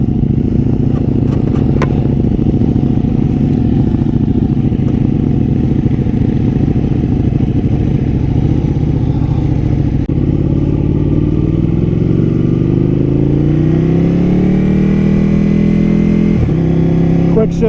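Ducati Panigale motorcycle engine, either a 1299 S Anniversario or V4 Panigale Speciale, roars loud and steady while riding, pitch rising through gears near the end with a quick shifter.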